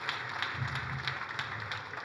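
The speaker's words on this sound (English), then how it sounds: "I would like to invite you to put our hands together and give a round of applause to the" Diffuse applause from an audience at a formal government gathering, steady patter of many hands clapping at moderate volume without distinct individual claps.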